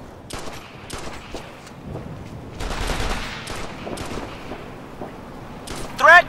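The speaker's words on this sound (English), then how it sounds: "We're getting shot at!" Distant, muffled gunfire in Operation Flashpoint: Red River, with scattered shots and short volleys at moderate to low level and a louder crackle near the end, under faint background noise.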